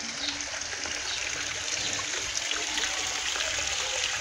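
Water runs back into a garden pond through filter return hoses, giving a steady close trickling and splashing wash with no pauses and nobody talking.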